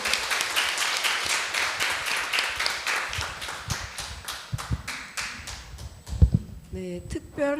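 Crowd clapping at a memorial service for Korean War dead, a dense burst of many hands that thins into scattered claps, ending with a low thump and a few voices.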